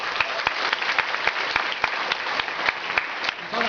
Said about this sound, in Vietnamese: xin các anh chị cho những nhân viên Amway một tràng pháo tay được không ạ